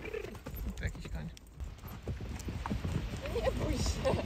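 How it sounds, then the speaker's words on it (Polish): Horse hooves clip-clop on the ground in a steady run of close, sharp knocks, with people talking over them and birds faintly in the background. "To jakiś koń."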